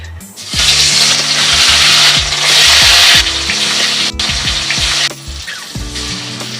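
Loud, steady sizzling of rohu fish pieces frying in hot oil, with a few bumps and clatters of a utensil as pieces go into the pan.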